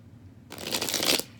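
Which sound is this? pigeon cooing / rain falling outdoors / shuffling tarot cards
shuffling tarot cards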